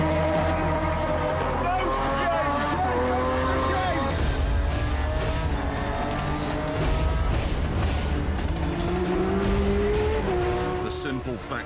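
Race cars roar at full throttle on a circuit, several engines howling and shifting gears as they chase a Porsche, with rising and falling engine notes and occasional tyre squeal, loud and continuous throughout.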